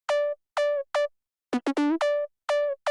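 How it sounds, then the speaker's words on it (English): A buzzy, bright two-oscillator saw wave synth lead plays a short staccato phrase of clipped notes with a few quick pitch bends, dry and upfront with no reverb. "it's two oscillators, and it's just saw waves and totally dry"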